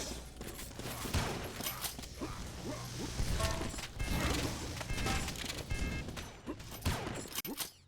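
Rocket launcher fire in a Quake match, with loud, repeated blasts and explosions over busy gunfire and clanking game effects, dense and continuous throughout.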